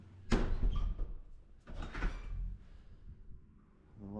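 The door of a campsite toilet block opens with a close, sharp clunk followed by a rattling creak and a second, softer knock as it moves.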